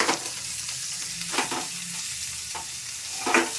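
Bitter gourd sizzling in an oil tempering while being stirred, a continuous frying hiss broken by several scraping strokes of the spoon against the pan.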